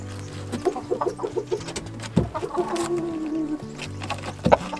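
Chickens being herded on a homestead give a quick series of close, rhythmic clucks and a drawn-out squawk, with brief thumps and rustling between calls.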